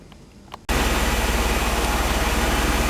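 A quiet moment with a couple of faint clicks, then a 1989 Mercedes 300E engine abruptly starts and runs at a loud, steady idle with a slight rhythmic pulse, after a fuel pump and filter change.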